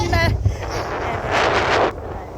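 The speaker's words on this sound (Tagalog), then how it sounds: "Sobrang lakas ng hangin." Strong December wind in northern Philippines buffets the microphone in a steady, rumbling roar that swells and eases, with a brief voice near the start.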